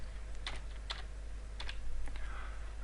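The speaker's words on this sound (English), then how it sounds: "then just type mashup" Keys on a computer keyboard are tapped in short, quiet bursts of a few quick clicks separated by brief pauses, close and alone over a low steady hum.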